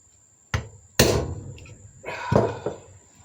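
A welder part is hammered on a small anvil, a few sharp metallic strikes spaced unevenly, one loud ringing blow followed by a cluster of lighter taps, close and with no talking.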